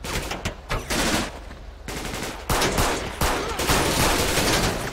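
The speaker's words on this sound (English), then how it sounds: "Okay, we're taking heavy bullets right now." Heavy assault rifle gunfire in LSPDFR police mod for GTA, rapid overlapping bursts crackling loudly and continuously throughout, close and intense with no talking.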